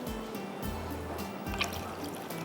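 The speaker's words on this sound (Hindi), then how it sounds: "थोड़ा सा पानी और इसमें चला जाएगा।" Water poured into a cooking pan of beef malai qeema on a stove, a short trickling, dripping pour heard close up over low background hum.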